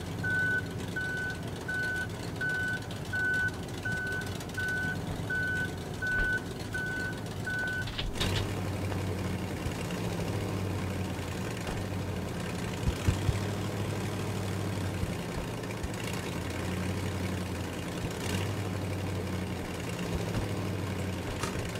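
Reversing beeps from a truck in the video game Human: Fall Flat, a steady run of evenly spaced beeps that stops partway through, leaving a low, rumbling engine drone that carries on with a few brief clunks.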